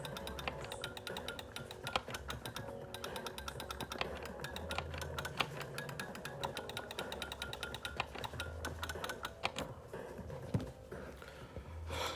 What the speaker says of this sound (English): Give me 1 second, I gotta type it in.